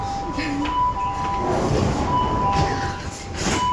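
A Delhi metro train runs as heard from inside an empty carriage: a continuous rumble with a steady high tone and a faint squeal from the wheels and rails.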